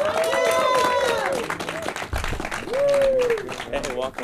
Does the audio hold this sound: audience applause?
yes